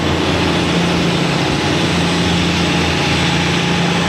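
A trawler boat engine runs loudly and steadily with a constant low drone and broad rushing noise, with no pauses or changes.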